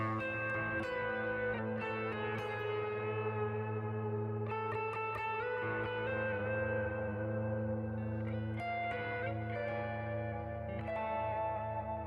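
Sustained electric guitar chords ring out with heavy reverb and echo, notes blurring into a long wash of sound.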